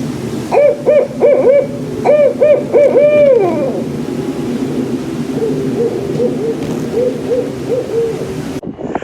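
A person imitates a barred owl's "who cooks for you" hooting call, a rhythmic series of loud hoots followed by softer, quicker hoots, close and alone.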